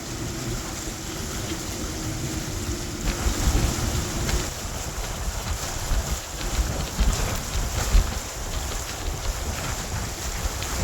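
A small boat pushes northwest into wind and waves on Pigeon Lake, with whitecaps forming. Wind buffets the microphone over a continuous rushing of water and hull noise, loud and unbroken, with no one talking.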